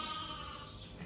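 Lambs on a farm bleating steadily in a dense, continuous chorus during feeding and checking time, with no voices.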